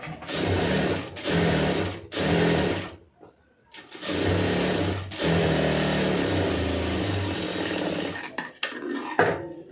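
A sewing machine stitching the seam of a cigarette pant, running in several loud, close bursts separated by short pauses, followed by one longer continuous run of stitching.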